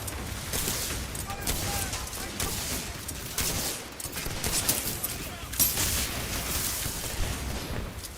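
Weapon fire in the video game Titanfall 2, including a shotgun, as repeated sharp blasts scattered through a dense, busy battle soundscape of shots and explosions, with no clear talk.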